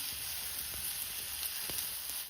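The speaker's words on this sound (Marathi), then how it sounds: "तव्यावरती तेल असल्यामुळं आपल्याला धपाटं सावकाश टाकून घ्यायचे" A dhapate flatbread fries in oil on a hot griddle over a village wood-fired stove, giving a steady close sizzle with faint crackles throughout and no voices.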